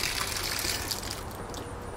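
Liquid gushes and splashes steadily for a couple of seconds as a Thetford Porta Potti waste tank is emptied, a close, continuous pouring sound with bubbling trickles.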